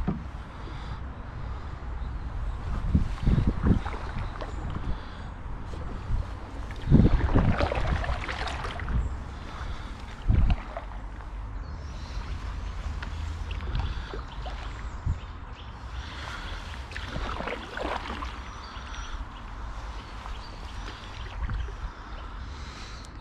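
A canoe paddled on open water gives soft splashes and swishes of paddle strokes in a few bursts over light wind noise, fairly close, with no talking.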